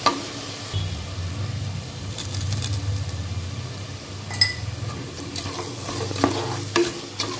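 Onions and tomatoes sautéing for mutton biryani made with seeraga samba rice, a steady close sizzle under repeated spoon stirs and scrapes against the pan, with no voices.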